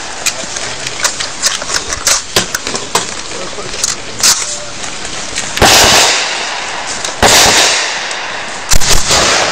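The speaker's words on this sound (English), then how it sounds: "So I'm going to fire 5 more quickly." Rapid shots ring out close by from a Chinese Type 97 rifle, several sharp cracks in fairly quick succession amid ambient noise and other firing on an outdoor range.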